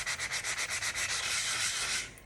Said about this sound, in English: So I'm just going to take my little sanding block. I start out with sanding the top here.